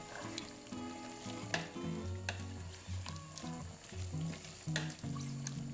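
Diagonally chopped spring onions fry in a pan with spicy chorizo and chicken, a steady moderate sizzle with scraping stirs and utensil clinks over a low background hum, no voices.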